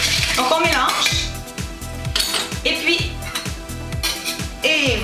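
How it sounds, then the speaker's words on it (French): Rum being muddled with ice, mint and sugar in a glass for a mojito, giving repeated rhythmic clinking and scraping strokes of a utensil against glass and ice, close and fairly loud, with background music running throughout. "je l'utilise pour mélanger mon rhum comme ça, avec la glace et la menthe et le sucre"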